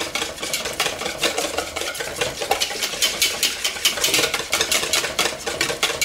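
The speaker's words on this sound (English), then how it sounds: "I'm just going to put the bowl over the vinegar, whisking the eggs," Eggs being whisked in a bowl set over vinegar for eggs Benedict, a fast, steady scraping and ticking of the whisk against the bowl, continuous and close with no talking.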